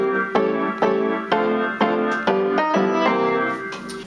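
Guitar chords of a jazz progression (I-vi-ii-V), struck one per beat in a steady rhythm, each attack ringing and decaying before the next, clear and close with no talking.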